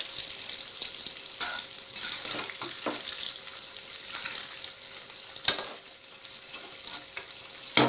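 Steady hissing sizzle of chicken pieces frying in hot oil for chilli chicken, with occasional scraping stirs and clinks, moderately quiet and close.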